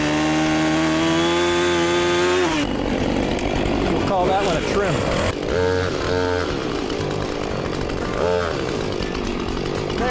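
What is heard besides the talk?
chainsaw making a down cut through a felled tree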